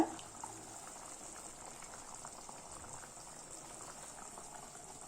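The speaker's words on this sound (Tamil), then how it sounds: "இப்போ 2 நிமிஷம் நல்லா கொதிச்சிருச்சுங்க" Aara meen kulambu, a Tamil fish curry with tamarind, boils in a pot with a steady, close, even bubbling that lasts throughout, with no talk over it.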